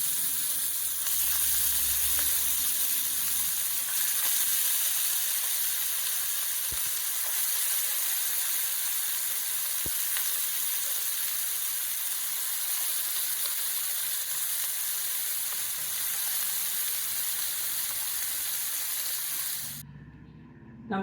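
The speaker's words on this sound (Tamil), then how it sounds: "இப்போ ஒன்று ஒன்றா ஆயிலில் ஃப்ரை பண்ணி எடுத்துவிடுவோம்" Jackfruit seed cutlets shallow frying one by one in hot oil, giving a steady, close sizzle that runs almost unbroken and then cuts off abruptly near the end.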